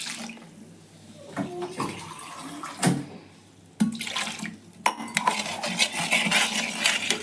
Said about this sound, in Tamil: நம்ம 1 டம்ளர் தண்ணி மிக்ஸ் பண்ணிக்கிறோம்.